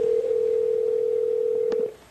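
A telephone dial tone plays before a call, a loud, steady single-pitched hum lasting about two seconds with a brief click near the end before it cuts off.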